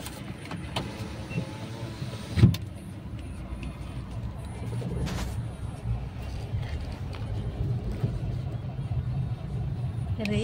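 A car rolls slowly into the parking area of the Mahalaxmi Jagdamba Devi temple in Koradi, Nagpur, with a steady low engine rumble, a brief knock near the start and faint voices in the background.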